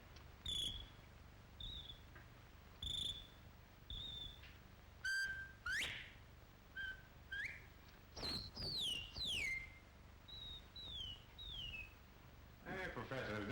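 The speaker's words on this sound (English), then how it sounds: "You take this bottle and you whistle in it" A man whistles into an Oriental Spirit Bottle in a string of short, bright pitched whistles and slides with gaps between, set against a quiet room with faint background hum.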